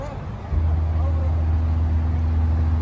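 A deep, steady 80 hertz bass tone from a car subwoofer kicks in abruptly and hums loudly and continuously inside the car, with faint background noise before it starts.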